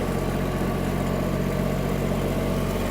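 A Japanese Kubota GB-20 mini tractor engine runs with the tractor in reverse gear, giving a steady, unbroken mechanical drone at moderate volume with no voices.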